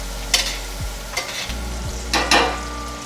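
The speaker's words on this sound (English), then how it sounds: "once your butter starts melting, you're just gonna go ahead, get a big spoon, and baste your steak" Steak sizzles loudly in a pan while being basted with melted butter, herbs and garlic, the steady frying hiss broken by several bursts as a large spoon pours butter over the meat.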